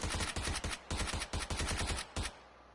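Gunfire in the video game PUBG, attributed to a sniper: a close, loud string of rapid sharp shots in quick uneven bursts, ending with a final isolated crack and fading tail.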